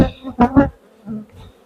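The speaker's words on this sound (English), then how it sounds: "Nectar and angry bees." Angry honeybees swarming up from an opened hive make loud, close buzzing in a few rough, surging bursts that fade into a quieter hum.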